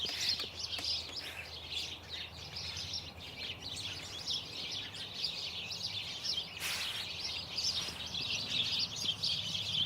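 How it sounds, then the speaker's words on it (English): Backyard birds sing in a continuous chorus of bright chirps and trills, moderately distant and steady over faint background hiss, with no talking. "You hear them birds, buddy?"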